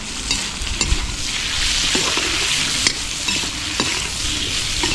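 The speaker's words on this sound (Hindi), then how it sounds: "अब इसको चला दे रहे हैं" Potatoes with turmeric and Kashmiri red chilli powder stirred in a frying pan, steady hiss of sizzling oil with intermittent scraping and clinking of the spoon against the pan, close and continuous.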